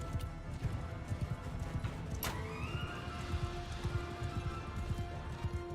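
A horse gallops in the video game Bannerlord, its hooves beating a steady, rhythmic clip-clop throughout, with a brief whinny-like tone rising partway through.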